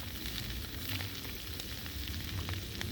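Slices of spam sizzle and crackle steadily in a hot pan, a dense continuous fry with scattered sharper pops, close and fairly loud with no talking.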